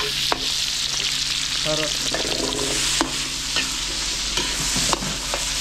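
Garlic and onion sautéing in a pan for catering-style kaldereta, with a steady loud sizzle and occasional clinks of a spatula, close up, and a brief spoken word over it.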